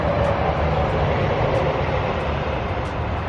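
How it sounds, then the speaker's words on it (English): A loud, steady rumbling roar fills the whole moment as a train rolls past close by in Perth, with no voices. "I think that was the train"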